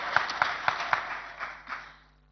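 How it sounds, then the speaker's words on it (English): Clapping at a virtual Patriotic Front rally, a handful of sharp, evenly spaced claps at close range that thin out and fade to silence within about two seconds. "I think we must give ourselves a big applause"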